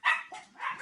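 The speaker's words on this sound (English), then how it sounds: "Hold on. I got to let this dog out of here." A pet dog named Otis barks and yips in three quick, fairly close bursts, with no talking in between.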